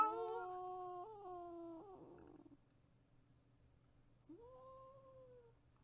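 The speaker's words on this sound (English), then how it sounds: "That's my little kitty in his bed right there. He's crying in his sleep." A kitten cries in its sleep in its bed indoors, a quiet close wavering whine that trails off, then returns for a second, shorter cry after a pause.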